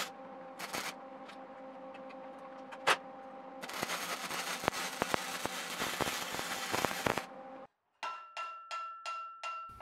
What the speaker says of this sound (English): I'm MIG welding here with flux core wire